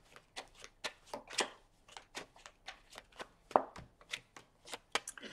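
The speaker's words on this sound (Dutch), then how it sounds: "Dus dan de kaarten schudden om te kijken wat deze week voor jou gaat brengen." Tarot cards are shuffled alone at close range, a quiet run of crisp separate riffling snaps and slaps in an uneven rhythm, with one sharper knock near the middle.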